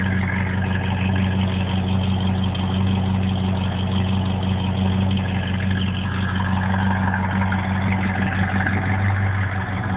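A 1951 Ford F1 pickup truck engine idling smoothly through dual exhaust, a steady low rumble with a constant hum, close and continuous without revving.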